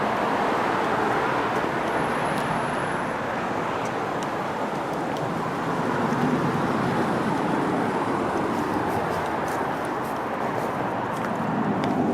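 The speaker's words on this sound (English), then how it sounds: "It's a busy street." Traffic on a busy street outside a Burbank hotel, a steady broadband roar of passing cars heard continuously at moderate loudness, with some wind buffeting on the microphone.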